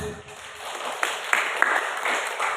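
Sparse applause and clapping break out in a church as worshippers clap for Jesus, a few sharp claps standing out over a soft room murmur, with a voice faintly present.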